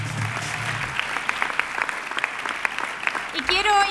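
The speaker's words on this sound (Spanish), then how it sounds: "Un gran aplauso para todas ellas." A crowd at a sports awards gala in San Sebastián de los Reyes applauds steadily, dense clapping with sharp individual claps poking through, then tailing off as a voice and a tonal sound come in near the end.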